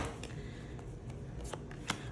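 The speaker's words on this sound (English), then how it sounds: "Do one more shuffle." A deck of playing cards being shuffled close by, with soft riffling texture and a few sharper snaps of cards, alone without talk.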